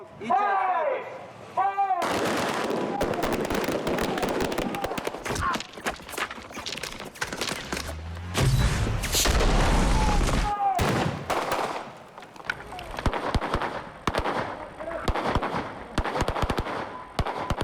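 Pyrotechnic bullet-hit charges rigged in a wall on a war film set fire in rapid, dense volleys of sharp cracks and pops that continue for many seconds, loud and close.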